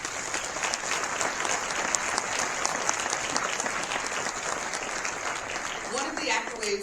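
Sustained audience applause at a State of the City speech in Fort Wayne, Indiana, honoring the police and fire departments: steady, dense clapping from a large crowd that carries on evenly throughout, with some voices mixed in near the end.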